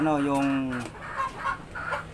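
A Streetcomb gamecock gives a drawn-out, harmonic call near the start, followed by a few shorter clucking sounds at moderate volume.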